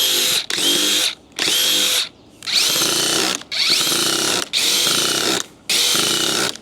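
Loud, close DeWalt DCF870 cordless impact driver whirs in six short bursts driving a screw, with brief gaps between them, each burst revving at a steady pitch.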